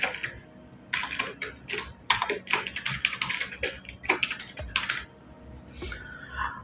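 Quick bursts of keystrokes on a computer keyboard as a vendor name is entered into QuickBooks Desktop, tapping in uneven clusters with short pauses, close and fairly loud, no talking.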